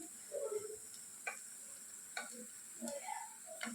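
Evening snacks deep-frying in hot oil, a steady soft sizzle with occasional stirring clinks and scrapes, fairly faint and close, no voices.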